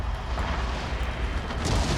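Artillery bombardment in the Fall of the Samurai strategy game produces a dense, rumbling wash of overlapping explosions that blasts through a fortress gate, loud and continuous across two seconds.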